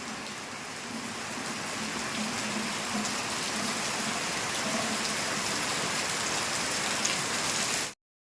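Heavy rain pouring down outdoors, a dense, even roar of falling water that holds steady for several seconds before cutting off abruptly.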